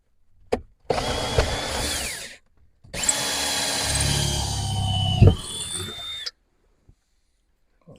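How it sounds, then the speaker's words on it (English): A power drill bores a small test hole through the metal body and ribs of a skoolie bus, running in two loud sustained bursts of whining, grinding noise with a short pause between them, then stopping. "I didn't want to drill too big a hole."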